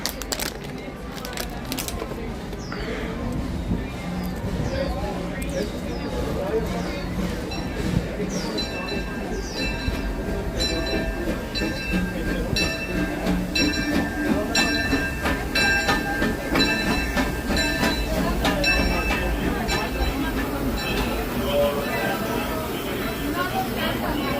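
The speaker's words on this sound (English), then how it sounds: "Trains are running about every 5 minutes." A Disneyland railroad train rolls through the park, steady rumble and clickety-clack of wheels with metallic squeals and clinks, continuous and fairly loud, with voices in the background.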